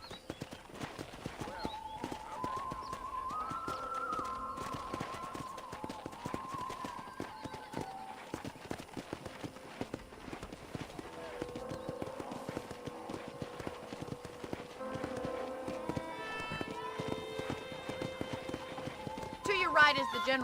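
Horse hooves clip-clop steadily on a ranch in the Red Dead Redemption video game, a continuous rhythmic trot heard under a voice speaking and background music.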